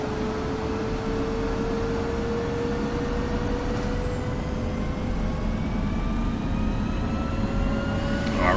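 A UH-60L Black Hawk helicopter engine in DCS World spools up, a steady turbine whine climbing gradually in pitch over a constant low rumble, with one high tone fading out midway.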